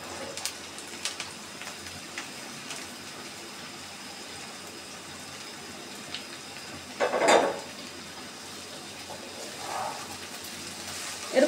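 Okra added to onions frying in a pan, a low, steady sizzle through most of the stretch, then a louder burst of crackling and a few clatters as the vegetables go in and get moved around.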